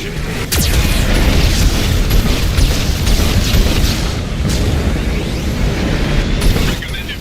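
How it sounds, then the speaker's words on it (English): Geth cannon fire and explosions from the Mass Effect 2 video game, a sustained loud barrage of booming blasts and rumbling detonations with a sharp crack near the start, continuous without any talking. "Warning, Geth cannon is locking on our location."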